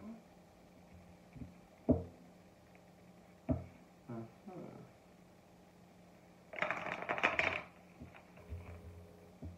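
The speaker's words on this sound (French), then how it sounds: "On va mélanger et on prendra la carte du dessus" A deck of cards is handled, a few soft taps and slides followed by a short, close burst of rapid shuffling riffles near the end, quiet with no talk.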